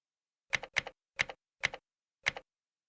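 Keys on a computer keyboard are typed in five short bursts, mostly double clicks, close and fairly quiet in an otherwise silent room.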